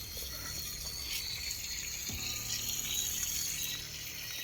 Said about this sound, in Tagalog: May leaking yung hose.